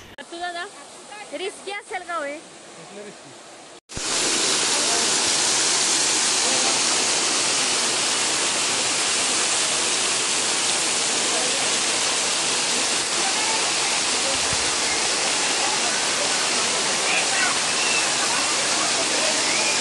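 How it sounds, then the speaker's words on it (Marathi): A continuous stream of water pours at Dhareshwar temple in Patan, Satara, as a loud, steady rushing roar that begins abruptly after a few seconds of talking and then runs unbroken. "तिथे सतत पाण्याची धार सुरू असते"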